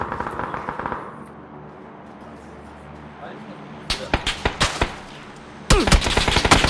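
Gunfire in the PUBG Battlegrounds video game comes in rapid, sharp, close bursts of automatic shots, with a second volley following after a short gap over a low game ambience.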